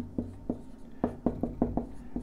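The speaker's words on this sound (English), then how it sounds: "I'm going to write this down" A pen or marker writes on a board or paper during a medical lecture, making about nine short, scratchy strokes in an uneven rhythm, close and fairly quiet, with no talking.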